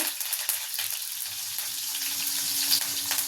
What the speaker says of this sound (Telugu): ఉల్లిపాయలు ఫ్రై చేసుకున్నా